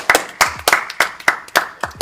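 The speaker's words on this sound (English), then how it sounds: "Get a round of applause." A small group of people giving a round of applause, with short, distinct bursts of hand claps repeating at a quick, uneven rhythm, close and fairly loud with no talking.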